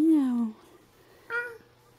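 A child imitates a cat's meow: one clear, falling 'miaow' up close, then a pause and a shorter, higher meow-like call.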